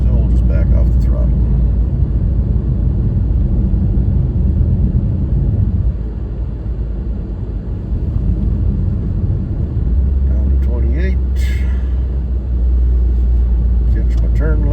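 A loud car engine drones steadily, its low rumble easing and dropping briefly midway before settling back to a steady cruise.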